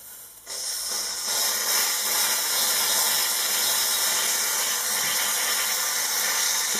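A Mamod live steam toy train engine lets out a loud, steady hiss of escaping steam that bursts on suddenly and holds at an even level, close and alone with no talk.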